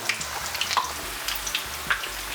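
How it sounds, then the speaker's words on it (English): Coconut shrimp fry in a pot of hot oil on a stove, a close, steady sizzle with scattered crackles and pops. "and we'll just let them fry"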